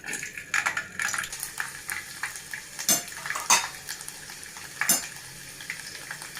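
Garlic dropped into about two and a half spoons of hot oil for a Telugu gongura pachadi, with utensils clinking against the pan over a steady low sizzle and several sharper scraping knocks.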